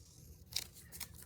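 Two quick, faint snips of scissors cutting paper for a junk journal, a moment apart, very quiet over a low background hum.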